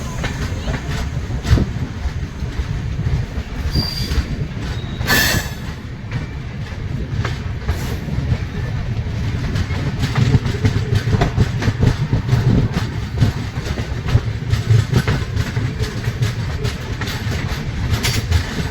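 A train pulls slowly out of Manikpur station on the Howrah–Agra route, its wheels rumbling and clacking steadily over rails close by, with occasional sharp knocks and voices talking beneath the noise.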